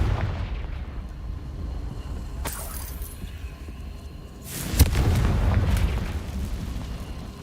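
Confringo blasting spell exploding in Hogwarts Legacy, a loud booming burst with a sharp crack near the middle, over a continuous rumbling game soundscape with a second blast earlier.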